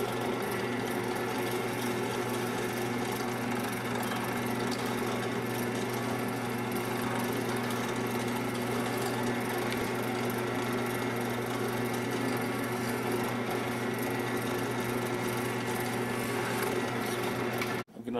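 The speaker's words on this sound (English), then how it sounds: "I'm going to spot these holes with a center drill or a start drill." A steady, high-pitched machine whine drones continuously as a center drill spots holes on a machine tool, with no pauses until it stops abruptly at the end.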